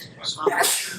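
A single short human sneeze, close and fairly loud, with a breathy intake and a sharp burst lasting under a second.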